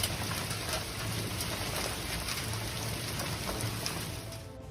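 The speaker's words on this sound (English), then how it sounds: "A powerful storm brings hail to south-central Texas, heavy ice stones striking hard and making roads slippery and increasingly dangerous." Hail driven by a powerful storm in south-central Texas, heavy ice stones pelting surfaces in a dense, steady clatter that stays loud throughout before easing slightly at the end.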